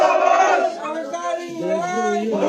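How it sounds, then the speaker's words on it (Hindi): A crowd of villagers in Aligarh shouting 'murdabad' slogans against the administration in the street: loud, massed voices chanting together continuously and close up. "गांव के लोग प्रशासन के खिलाफ सड़क पर उतर आए और मुर्दाबाद के नारे लगाने लगे"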